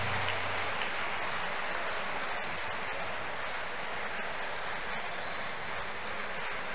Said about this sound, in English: Clap for Jesus. Clap for Jesus.